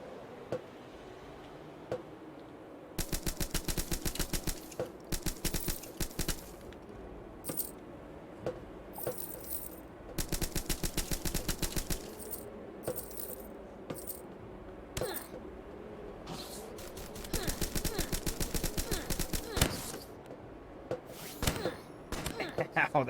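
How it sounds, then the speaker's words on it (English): Shotgun blasts from a video game Starbound fight, arriving in dense rapid bursts of sharp cracks separated by brief lulls, loud and close, with a voice talking in between. "Ow, that shotgun hurts."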